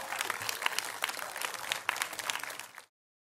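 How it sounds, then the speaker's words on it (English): Audience applause at a DIY show-and-tell event at the DESIGN West design conference, a dense burst of clapping for nearly three seconds that cuts off abruptly. "Now I want to see some applause."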